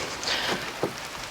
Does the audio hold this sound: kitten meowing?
no